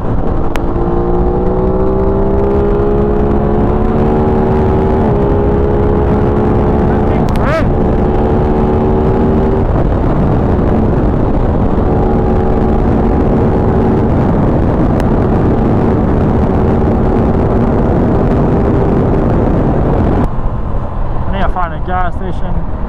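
An Aprilia RS660 motorcycle being ridden, its engine a loud steady drone with gear-change pitch shifts, heavy wind roar and a rider talking over it.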